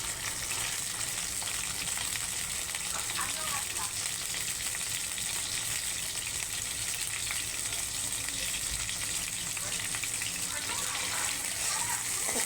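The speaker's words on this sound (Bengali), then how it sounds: "শুটকিটাকে আমরা ভালো করে ভেজে দেবো।" Dried fish (shutki) frying in a pan with a steady, continuous sizzle and crackle that holds at an even level throughout, close and moderately loud, with no voices heard.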